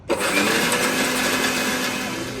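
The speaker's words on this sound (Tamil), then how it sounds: "இப்போ நம்ம வந்து அரைக்க போகிறோம்" A mixer grinder whirs loudly and steadily close by, grinding garlic, green chillies and coconut. The motor starts abruptly and holds an even drone to the end, with no speech.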